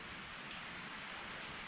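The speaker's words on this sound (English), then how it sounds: "it's raining" Steady rain falls as a continuous, even hiss of drops, moderately quiet and unbroken throughout, with no voices.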